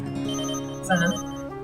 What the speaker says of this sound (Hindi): फोन तो उठाओ।